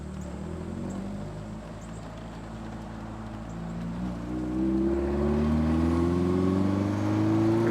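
A 1967 Alfa Romeo Duetto Spider roadster is driven on the road, its engine droning steadily and then rising in pitch as it accelerates through the gears, heard up close with no talk.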